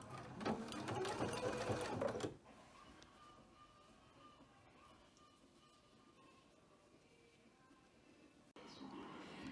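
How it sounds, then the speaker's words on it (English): A sewing machine stitching down a thick quilted pocket for a hip purse, a fast close motor whir for about two seconds, then quiet room tone and a brief restart at the end. "I'm just going to put a stitch to hold it in place"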